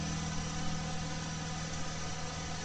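Car engine idling quietly and steadily on Royal Purple oil, a smooth continuous low hum with faint vibration, close and alone with no talking.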